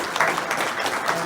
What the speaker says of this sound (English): just a quick round of applause to the soldiers who actually set all this up